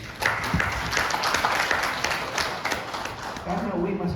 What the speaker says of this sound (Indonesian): Aplaus untuk UI.